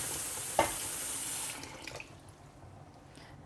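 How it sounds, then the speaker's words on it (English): Cold tap water runs into a pot of hot boiled beets, a steady faucet stream for about a second and a half, then quieter trickles and drips. "I'm going to put cold water in here so you have the beets just to chill them down"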